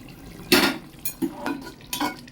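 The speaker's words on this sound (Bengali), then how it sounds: "আবারও ঢাকা দিয়ে দেবো চলো আর একবার খুলি পলট পালট করে দিই" Metal spoon stirring and turning food in a covered pan on low heat, with a lid lifted; a few loud clattering scrapes and clinks come in separate bursts over a faint background hiss.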